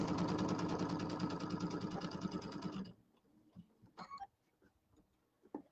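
An embroidery machine quilts a Kimberbell table topper, its needle chattering in a fast, even rhythm for about three seconds before stopping, followed by faint handling clicks and rustles, close up.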